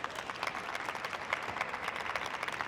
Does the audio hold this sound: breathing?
no